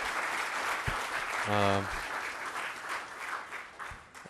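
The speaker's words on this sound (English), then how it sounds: "we should give a big round of applause to our excellent panelists" Audience applause for the panelists at an open data conference session, steady clapping from a room of people with a brief low tone and a few thumps partway through, tapering toward the end.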